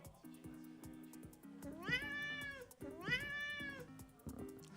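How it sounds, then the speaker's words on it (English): Two long, pleading meows from a cat begging to be fed rise over a quiet, looping electronic game tune. "that sound is actually from a cat who is really begging to be like fed"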